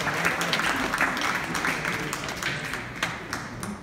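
Audience applause during a school presentation on Roman schooling, a lively continuous round of clapping from a group of listeners, moderately loud with individual claps audible and no talking over it.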